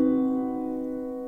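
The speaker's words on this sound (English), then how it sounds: "So the first chord that we'll be covering is the diminished major 7 chord." A diminished major 7 chord is struck once and left to ring alone, its sustained tones fading slowly over about a second with no other sound.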